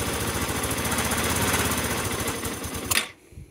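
Yamaha SR125 single-cylinder motorcycle engine running after its first start in three years, a rapid even putter close by that sputters and cuts out abruptly near the end.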